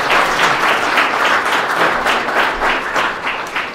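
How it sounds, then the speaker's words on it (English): A crowd claps loudly for Grandview's head wrestling coach, Nick Mitchell, in a lounge. The applause is dense and sustained, with rhythmic swells and no talk over it. "big round of applause for Grandview Head Wrestling Coach Nick Mitchell"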